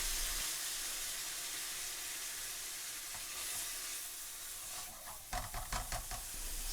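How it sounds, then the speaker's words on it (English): Grated onion frying gently in a pan for a British Indian restaurant–style madras, a steady sizzling hiss that fills the clip, with a few sharp stirring scrapes and clatters near the end. "Carefully add the grated onion and cook gently until they are soft and golden."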